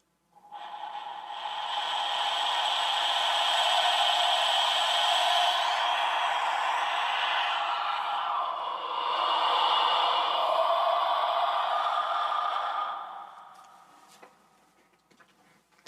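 A fragile clay skull-faced instrument in pre-Columbian style produces a steady, breathy wind-like rush that swells, dips briefly midway, rises again and fades out, played alone at close range.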